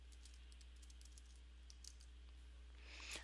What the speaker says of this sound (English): I can just change this by clicking up there and typing.